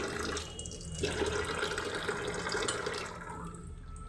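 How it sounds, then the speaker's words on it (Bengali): Water pours into a container in a steady, close rushing stream that keeps filling without a break for a few seconds, with no voices. "জল ভরছি জল ভরা হয়ে গেছে পুরো"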